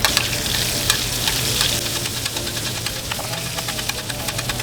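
Duck breast laid into hot, evenly bubbling oil on a bed of rosemary in a pan: a steady, close sizzle and crackle with scattered sharp pops, continuous and fairly loud, no voices.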